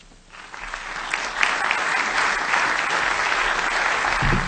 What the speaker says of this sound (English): A final round of applause for both of them